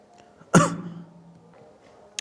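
A single sharp cough bursts out close and loud in a quiet room, with a brief throaty tail, during a maths lesson.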